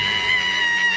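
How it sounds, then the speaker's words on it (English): A woman screams in one sustained, high, shrill cry that holds steady for about a second, loud and close. "Why are you screaming?"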